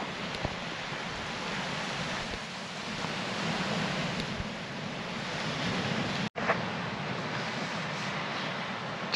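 Sea swell and waves pushing in at Porlock Weir on the North Somerset coast, a continuous broad wash of surf mixed with wind rumble, with one brief dropout near the end.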